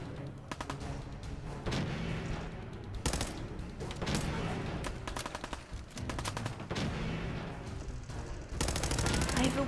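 Bursts of game gunfire from a weapon in Fallout 4, rapid automatic shots in several volleys with brief pauses, loud and close, ending in a heavy sustained burst.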